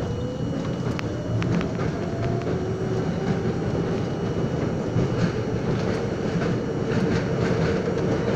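An old R42 New York subway J train runs with a steady, loud rumble and faint rail clatter throughout, with no talk heard.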